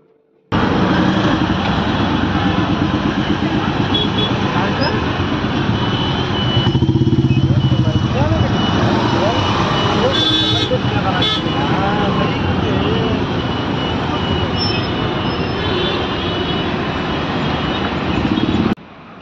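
Busy street traffic outside a metro station in Bangalore, a steady dense roar of engines with passing motorbikes and an occasional horn toot, loud and continuous throughout with a voice faintly mixed in.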